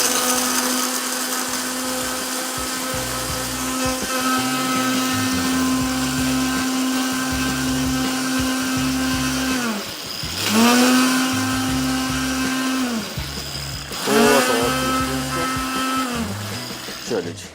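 An electric grinder whirs steadily as it pulverises spice masala for Lebanese chicken, a loud close motor drone that dips and restarts in short bursts near the end.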